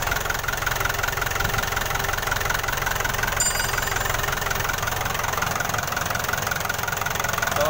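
Hino 300 truck diesel engine running steadily just after starting, a constant rough idle with a knocking texture at moderate level, no talk.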